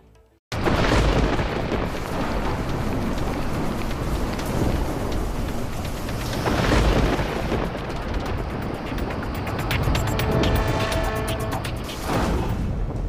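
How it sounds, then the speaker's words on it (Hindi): Cyclone Tauktae striking India's western coast in Gujarat: a roaring, steady wash of heavy rain and storm noise fills the whole stretch, with surges of intensity and crackling bursts of thunder-like rumble, no speech. "जहां तूफान और भारी बारिश ने कोहराम मचा दिया है"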